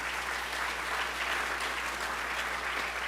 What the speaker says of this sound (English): Please give each one of them a round of applause.